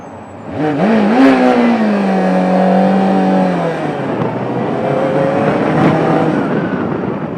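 A motorcycle engine revs up loud and close, its pitch climbing and then holding a sustained roar before easing back into a steady rumble.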